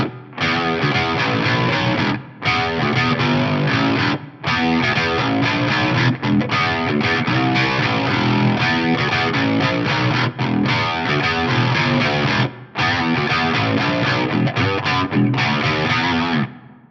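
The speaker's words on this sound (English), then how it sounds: "So let me turn the phaser and the filter off just so you can hear the octave style effect on its own." An electric guitar through a Fractal FM3 with an octave effect alone, phaser and filter off, plays thick, doubled riffs in loud phrases separated by short breaks.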